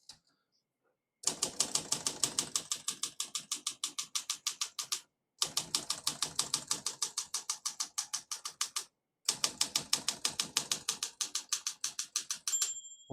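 Rapid mechanical clacking of the keys of a 1959 Olympia SM3 manual portable typewriter in three bursts separated by short pauses, crisp and close, with a faint margin bell ding near the end.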